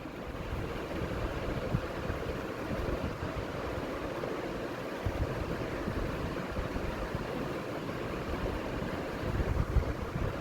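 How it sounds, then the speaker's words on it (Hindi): Mung dal masala with turmeric roasts in a pan after a splash of water, giving a loud, continuous close hiss and crackle that carries on steadily without any voices. "फिर पानी का छींटा लगा के इसे भूनेंगे।"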